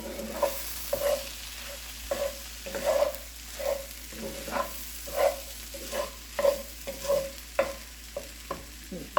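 Leftover rotisserie chicken fried rice stirred in a hot pan, a spatula scraping the bottom in a regular rhythm of about a dozen close, distinct scrapes over a low sizzle.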